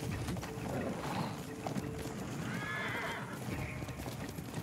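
Horse in the video game Ghost of Tsushima, a neigh over soft clip-clopping hooves and ambient game background, fairly quiet, no talking.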